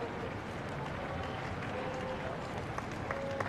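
The Wimbledon crowd applauds during a second-round men's singles match, a dense, steady wash of clapping from a packed court that keeps going throughout with faint scattered voices.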